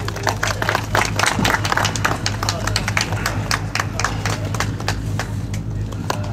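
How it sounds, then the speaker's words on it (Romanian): Scattered applause from a small crowd at a Romanian junior motorcycle speed championship podium, loose uneven claps over a low steady hum, with a voice briefly speaking in the background. "aplaudăm!"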